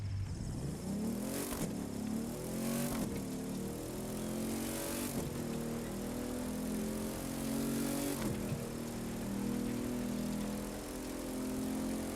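Hummer HX Concept engine in The Crew 2 accelerating hard, a loud continuous roar rising in pitch through several gear shifts with brief dips between them, with no talking.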